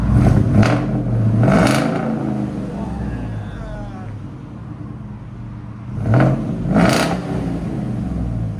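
A 2019 Ford F-250 with a 6.2L V8, Borla S-Type exhaust and resonator delete, heard close as an idle rumble rising into two loud revs, the second burst later in the clip after the engine settles back.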